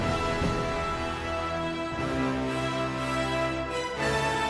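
Full orchestral Iron Man film theme music plays throughout, with swelling sustained brass and strings over a steady low foundation, loud and continuous.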